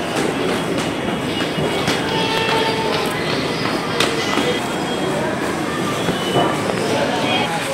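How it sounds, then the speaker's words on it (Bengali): Kolkata East-West underground metro train running through the tunnel beneath the Ganges between Howrah Maidan and Mahakaran, a loud continuous rumble with rhythmic wheel clatter and faint squeals heard from inside the carriage, with people talking. "পাতালের যে মেট্রোটা, মানে আন্ডারগ্রাউন্ড মেট্রো, যেটা গঙ্গার তলা দিয়ে হয়েছে, ওইটাই চাপবো বলে এসেছি"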